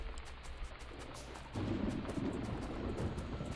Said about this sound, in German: Schönes Gewitter.